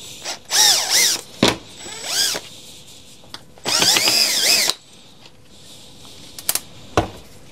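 A power screwdriver whirs in two main bursts while undoing a cable clamp inside a Makita UC3541A electric chainsaw under repair, with short clicks and taps between the runs, close and loud.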